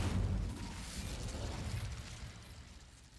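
A fire spell bursts in Hogwarts Legacy, a low whooshing boom that swells loud at once and then fades into a rumbling crackle over a few seconds, with no talking over it.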